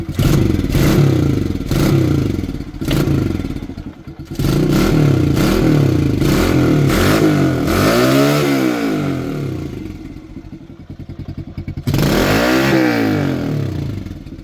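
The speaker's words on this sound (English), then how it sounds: "So this is the sound with the stock exhaust" A Kawasaki KLX 110 dirt bike with its stock exhaust revs repeatedly up close, rising and falling in pitch with rattling clatter between bursts.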